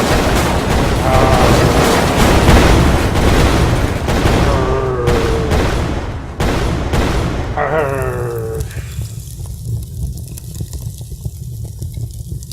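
Buildings being blown apart in a video game, a dense loud barrage of rumbling booms and crumbling debris that gradually thins into a quieter low rumble.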